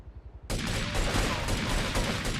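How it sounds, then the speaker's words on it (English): Rapid explosive bursts of rocket launcher fire in the video game GTA III, starting abruptly and continuing as a loud, dense barrage with repeated blasts and no pause. "I'm guessing the sound it's doing there is it firing rocket launchers"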